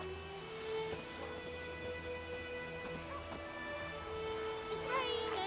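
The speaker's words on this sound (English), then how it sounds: "It's raining, it's pouring, and Vermeer's snoring." Steady in-game rain from The Witcher 3 hisses as a broad, continuous wash, with faint patters and low rumbles beneath and a few brief tonal game sounds over it.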